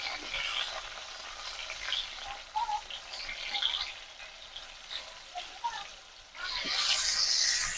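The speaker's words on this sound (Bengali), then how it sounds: "তেলটা গরম হয়ে গেছে, পটলগুলো এবার ভেজে নেব" Pointed gourd (potol) pieces coated in salt and turmeric fry in hot oil with a steady, close sizzle and scattered pops, and the hiss swells louder near the end.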